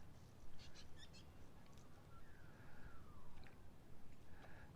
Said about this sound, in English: Those birds are coming towards us